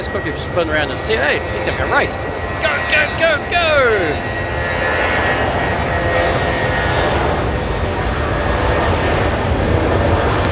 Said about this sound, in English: We've got a Jetstar going out to the Gold Coast though, you can hear that in the background.